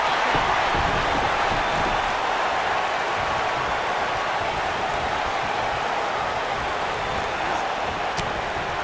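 Arena crowd noise from the WWE 2K19 wrestling game during an Undertaker vs Triple H match, a steady broad roar of cheering that holds throughout without a break.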